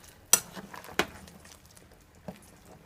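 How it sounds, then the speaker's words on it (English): A spoon stirs oxtail stew in a pot, giving a few sharp metallic knocks against the rim, spaced irregularly, with soft bubbling and scraping between them and no speech. "I'm just gonna take my spoon and just stir it."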